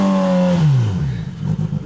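Polaris Pro R side-by-side engine revving hard while buried in deep blizzard snow, a loud close roar sweeping down in pitch, then settling into a lumpy, pulsing idle-throttle drone.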